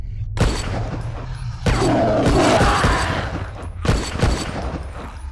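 Gunfire from the shooter game SNIPZ, blasting the limbs off enemies: several heavy bursts of shots with crashing impacts, loud and close, separated by short quieter gaps.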